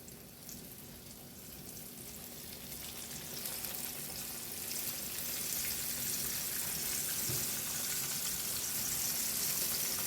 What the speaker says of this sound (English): the oil is ready. Let's get these chops on in here